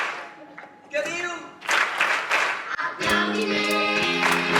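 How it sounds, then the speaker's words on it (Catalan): An audience claps at a school performing-arts presentation gala, the clapping building in uneven bursts while voices and singing carry over it, ending in a sustained, fairly loud round of applause beneath continuing vocals. "Aplaudiments!"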